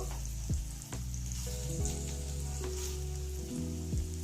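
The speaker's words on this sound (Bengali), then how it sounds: "একটু কিন্তু ভালোভাবেই ভাজতে হবে, কড়া করে ভেজে নিতে হবে" Paneer sticks fry in hot oil with a loud, close, dense sizzle and crackle, with a few low knocks from turning or stirring in the pan and no voices.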